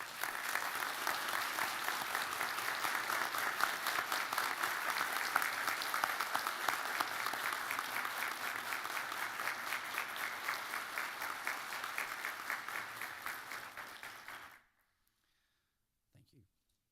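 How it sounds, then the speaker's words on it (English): An audience at an aviation management graduation ceremony at Embry-Riddle Aeronautical University claps in sustained, dense applause for about fourteen seconds before it cuts off abruptly into near silence. "So I invite you to stand and give them a round of applause."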